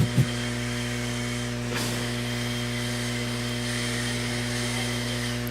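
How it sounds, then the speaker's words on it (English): A track blower runs at an RC off-road raceway, holding a steady motor drone with a constant low hum and a brief surge near the start, moderately loud, with no talk. "track is closed while the track blower is out"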